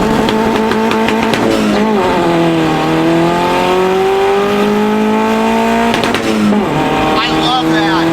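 A tuned turbocharged car pulls hard in third gear, its engine note climbing loud and close with tire chirps and shifts at the start and near the end, while people talk over the roar.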